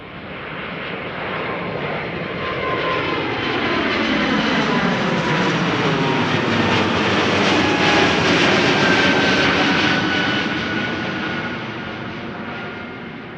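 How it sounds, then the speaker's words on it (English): An Airbus A220 jet takes off from Amsterdam Schiphol, its engine roar swelling, holding loud with a sweeping whine, then fading as it passes. "Now the gorgeous A220 underway."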